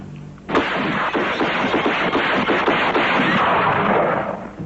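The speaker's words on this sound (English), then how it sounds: "And so, with 9 shots through a window, Martin Mugsy Heidel paid his debt to the un" Dramatized gunfire through a window in a 1947 gangland killing, heard as a sudden loud burst of shots that turns into a sustained, harsh, band-limited roar with a rapid rhythmic pulsing.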